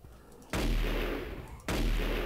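Two heavy, booming gunshots ring out in the horror video game Ollie's Farm, each a sharp loud blast with a long rumbling tail, about a second apart.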